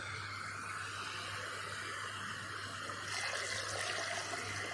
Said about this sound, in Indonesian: Nah kita kemudian kita tambahkan airnya